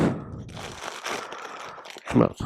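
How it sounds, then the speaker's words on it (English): A sack crinkling and rustling as stuck keys are pulled out of it, with a crackly burst at the start and a louder one near the end, and a voice talking in between. "Keys are stuck in the sack."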